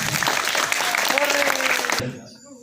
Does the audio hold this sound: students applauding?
yes